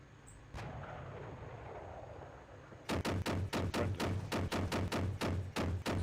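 T-80 tank cannon and gunfire in the Steel Beasts Pro PE tank simulation, a single sharp shot early, then a rapid run of about a dozen loud, evenly spaced heavy bursts over a low engine rumble.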